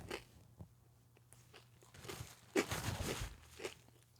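Someone bites into a thick, crunchy pizza crust, giving a few sharp, close crunches that build into a loud cluster of crackling bites and chewing, with no talk over it.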